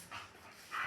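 A dog pants nearby in two quick, breathy huffs, soft and close in a brief, quiet moment.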